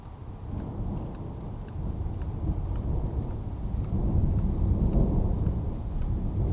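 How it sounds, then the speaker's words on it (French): Strong thunderstorm over Paris: deep, sustained rumbling of thunder rolls continuously and swells louder toward the end, with rain and wind noise underneath. "Deuxième orage qui arrive."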